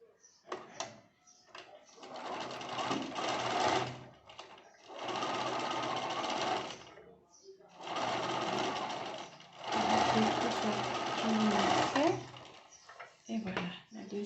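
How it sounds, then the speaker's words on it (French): A sewing machine stitches a seam on a cotton face mask in several steady bursts of rapid mechanical chatter, each a few seconds long with short pauses between, heard up close. "Ensuite, je fais la même couture de l'autre côté."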